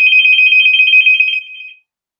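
A telephone rings loudly and close with a rapid warbling electronic trill, held steady for over a second before fading out and cutting off into silence.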